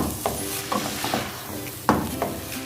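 Minced meat (keema) being stirred and fried in a pan, with a soft sizzle under repeated scrapes and knocks of a spoon against the pan.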